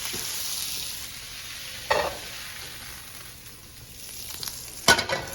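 Chopped onion tossed into a hot frying pan sizzles steadily and loudly, with a couple of sharp stirring clatters from utensils against the pan and no voices.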